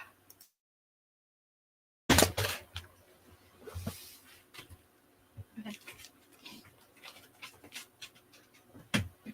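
Dog panting and shuffling nearby as it is let out, with soft breaths, light movement noises and faint whimpers after a silent start, fairly quiet throughout.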